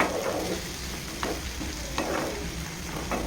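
Chopped tomato and small green eggplant sauté in a pan for a rustic eggplant chutney, a steady close sizzle with a few light spatula scrapes spaced across it.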